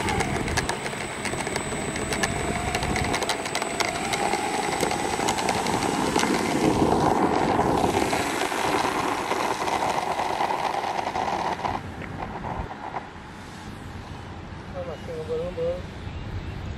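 A big RC model PBY Catalina flying plane drones steadily in flight, a continuous buzzing engine note heard over outdoor background, with people talking now and then.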